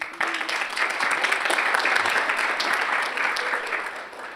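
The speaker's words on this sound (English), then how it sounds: "So give yourselves a round of applause." Audience applause fills a conference keynote hall, a steady wash of many hands clapping that holds through the whole stretch and tapers slightly at the end.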